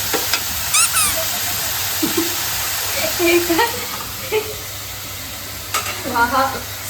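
Vegetables sizzle steadily as they are stir-fried in a hot pan for a homemade pizza topping, with scattered stirring clinks and scraping and only faint voice in the background.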